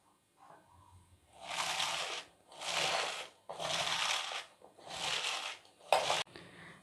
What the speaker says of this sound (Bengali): বাঁধাকপিটা আমি একটু লবণ দিয়ে মেখে নেব